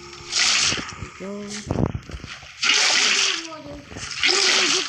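Water splashing in Minecraft gameplay comes in loud sloshing bursts, with a voice talking and calling out between and over the splashes.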